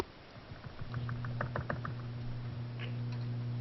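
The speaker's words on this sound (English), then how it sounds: "Who's banging on their keyboard?" Someone pounds a computer keyboard in rapid, irregular keystrokes during a podcast recording, clicks clustering in a quick burst and then thinning out, faint under a steady low electrical hum.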